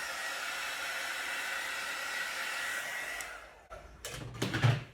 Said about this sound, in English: I'm just going to hit it with the heat tool now.